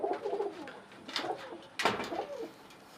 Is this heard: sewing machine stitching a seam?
no